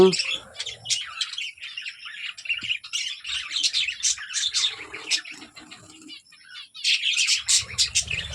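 Many pet breeding birds, some laying eggs, chirp and squawk in a busy, overlapping chorus, close by, with brief lulls and a burst of sharper calls near the end.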